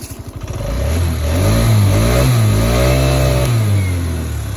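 A scooter engine starts with a few sputters, then revs up loudly and holds a steady, rising whine before easing slightly. The engine is close by.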